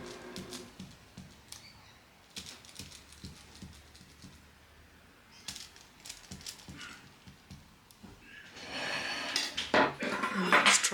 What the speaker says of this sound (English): I'm going to cut it from here so it's easier.